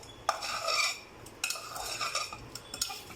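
Tamarind rice (puliyogare) mixed with a metal spoon in a vessel, close clinks and scrapes of the spoon against the dish in an uneven rhythm, with no talking.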